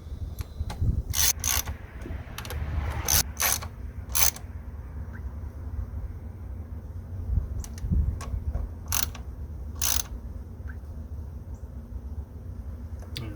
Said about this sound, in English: I just have my hand right here on the ratchet